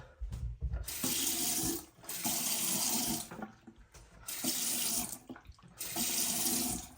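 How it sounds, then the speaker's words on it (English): Water gushes from a Moen faucet in repeated bursts, switched on and off several times while testing a new handle, loud and close with brief quiet gaps between. "And we turned on the water."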